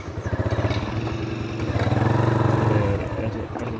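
A Pulsar 180 motorcycle rides off-road near Usgoan Dam, its mid-pitched engine thrumming in a pulsing idle before rising into a sustained rev, loud and close.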